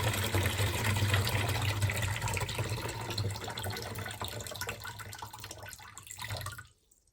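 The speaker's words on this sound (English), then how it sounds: "Like I said, that's the initial burst of water." Water gushing steadily out of a boiler system being drained for waterside cleaning, a continuous loud rush with a low rumble that tapers and then cuts off abruptly near the end.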